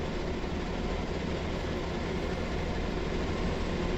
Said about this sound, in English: There's the second engine.